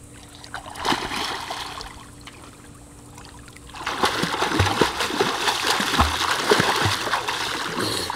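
A child swims underwater in a pool, with quiet muffled stretches broken by bursts of splashing and churning water as he kicks and surfaces.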